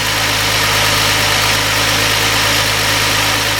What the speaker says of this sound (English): now turn the car on and we'll make sure that it gets up to temperature correctly